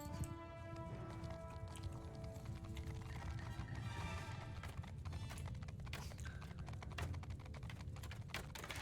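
Horses galloping in the video game Bannerlord, a dense rapid drumming of hooves with an occasional faint whinny, steady and moderately loud, with no talking.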